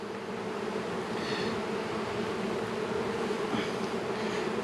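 Honeybees buzzing around an open hive during a late-March inspection, a dense, steady drone of many wings close by, unbroken throughout with no voices.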